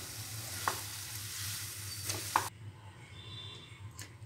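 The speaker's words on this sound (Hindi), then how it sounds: "अब उसमें फ्राई किया हुआ चिकन डाल दें। सारी चीज़ों को मिक्स करें।" Fried chicken stirred into a Chicken 65 masala, a steady sizzle with two sharp spoon scrapes against the pan, the frying hiss easing off halfway through.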